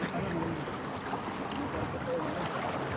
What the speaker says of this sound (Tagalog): Grabe, lakas ng alon. Lakas ng current